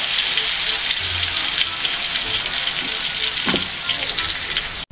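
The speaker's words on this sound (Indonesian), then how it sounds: "Minyaknya udah panas, kita tumis dulu bumbunya." Spice paste hits hot oil in a pan for an Indonesian village-chicken dish, sizzling loudly and continuously up close with a few stirring scrapes and a brief clatter.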